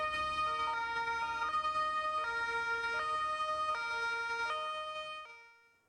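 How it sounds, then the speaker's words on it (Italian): Sirens on carabinieri motorcycles and cars escorting a funeral procession: a steady, loud two-tone wail alternating evenly between pitches, continuing for several cycles before fading out, with no voices. "tra le sirene delle moto e delle auto dei carabinieri"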